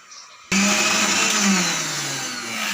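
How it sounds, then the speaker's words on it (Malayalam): An electric mixer grinder crushes coconut, green chilies, shallots and curry leaves, starting abruptly after a brief quiet moment and then running as a loud, steady whirring roar with no talking. "ഈ തേങ്ങ പച്ചമുളക് ചെറിയ ഉള്ളി കറിവേപ്പില ഇതെല്ലാം കൂടി ഒന്ന് ചതച്ചെടുക്കാം കേട്ടോ മിക്സ് ഇതിലിട്ടിട്ട് മിക്സിയിലിട്ടിട്ട്"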